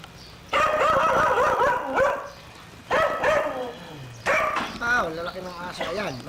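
A large dog in a backyard barks in several loud, close bursts with yelps and whimpering pitch, separated by short pauses; people talk nearby between the barks.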